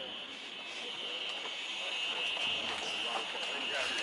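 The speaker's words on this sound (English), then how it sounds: "look how low that drone is" A drone flies low overhead during a busy outdoor gathering, a steady loud whine with a sharp high tone sitting over general crowd noise, continuous and close throughout.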